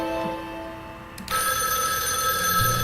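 Telephone in the next room ringing in the Spirit Hunter NG video game, a steady electronic bell tone that starts partway through and rings on continuously, clear and fairly loud, with no talking.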